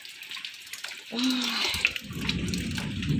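Floodwater from heavy rain pours in and rises above the floor, starting as a soft trickle, then swelling after about a second into a loud, continuous nearby gush.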